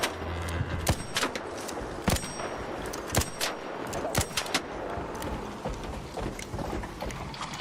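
Sharp, isolated shots ring out roughly once a second in a video game firefight, each crack standing out over a steady background of rumbling game noise and ambience.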